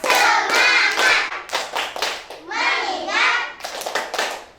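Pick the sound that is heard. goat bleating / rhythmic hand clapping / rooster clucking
rhythmic hand clapping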